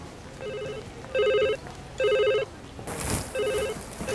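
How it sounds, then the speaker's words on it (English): Telephones at a hotel reception ring in repeated trilling bursts, four rings with short gaps between them and a brief rustling noise in between, fairly close and clear. "It's quite busy, the phones are ringing."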